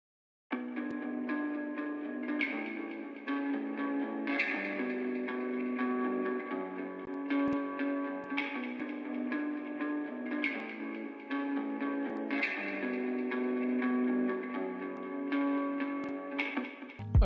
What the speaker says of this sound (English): another EQ, another reverb, and a delay. This is what the guitar sounds like now.